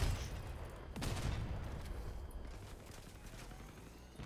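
Continuous gunfire from vehicle combat in the video game Crossout, a dense rattling volley that is loudest at the start and holds steady at moderate level, with no talk over it.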